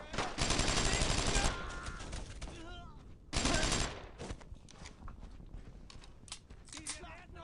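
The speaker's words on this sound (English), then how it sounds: "The enemy's firing on the flank" Heavy enemy gunfire in the World War II shooter Brothers in Arms: Road to Hill 30, two loud sustained bursts of rifle and machine-gun fire separated by quieter battlefield noise with scattered shouting voices.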